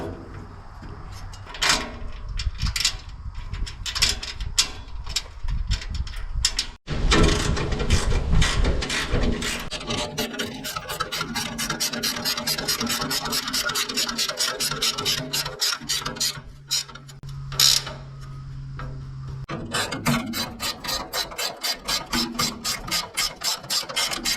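A part is bolted onto a Ford 960 tractor during a restoration, with long runs of rapid ratchet clicking, metallic clanks and tool handling up close.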